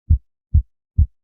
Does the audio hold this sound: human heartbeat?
yes